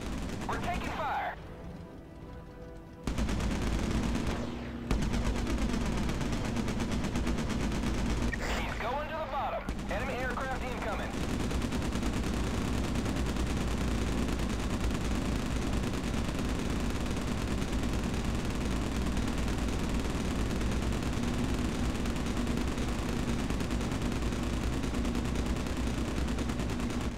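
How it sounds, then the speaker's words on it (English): Gunfire in the naval battle video game Battlestations Pacific: dense, continuous bursts of weapons fire and explosions that run loud and steady for most of the stretch, after a brief quieter opening with a short gap, with voices under the din. "We're taking fire."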